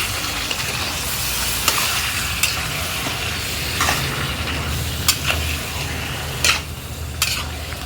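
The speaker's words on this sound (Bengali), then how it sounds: "ভালোভাবে কষিয়ে নেব।" Chicken kosha stir-frying in a pan, a steady loud sizzle and hiss with occasional sharp scrapes and clinks of a spatula against the metal, close up and without any voice.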